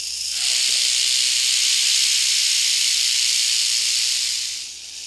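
A tropical rattlesnake (Crotalus durissus) beside a forest trail gives its warning rattle, a continuous loud buzzing hiss held steadily for about four seconds before fading.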